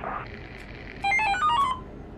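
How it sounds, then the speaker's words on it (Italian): Police CB radio chatter in Euro Truck Simulator 2: a short burst of electronic beeping tones and radio-style squawk rises midway over a low game hum, brief and moderately loud. "hanno messo il CB della polizia"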